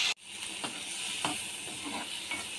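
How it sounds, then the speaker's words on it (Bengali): Green yardlong beans frying in hot oil with salt, giving a steady close sizzle with a few soft stirring scrapes spread through it. "বরবটিটাও আমি হালকা ভাজা ভাজা করে নেব।"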